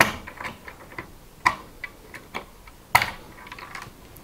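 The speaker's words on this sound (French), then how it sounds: "on appuie bien sur la carte mère et on va tirer pour que les push-pins se retirent en fait de la carte mère." Plastic push-pins of a CPU cooler popping free from a motherboard as the cooler is pulled off, heard as two sharp clicks about a second and a half apart over faint scattered ticking, close and alone.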